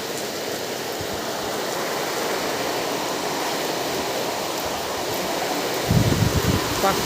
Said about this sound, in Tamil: காற்று எப்படி அடிக்குது பாருங்க.